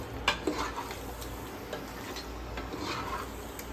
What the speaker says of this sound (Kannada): ಪ್ರಾನ್ಸ್ ಹಾಕ್ತಾ ಇದ್ದೇನೆ.